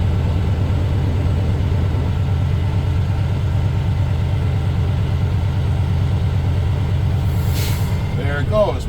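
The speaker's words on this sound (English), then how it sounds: "Wait for the governor to kick out, we'll hear the truck sneeze." A truck's air system, idling engine running steadily, then a short sharp hiss as the air governor kicks out and purges near the end; a loud, close diesel rumble throughout.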